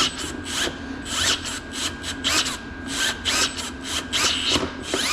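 A power chopper saw slices lengthwise through a long 1/8-inch-thick copper-bearing metal piece, giving a loud, rough grinding and rasping cut in repeated surges, close and with no talk.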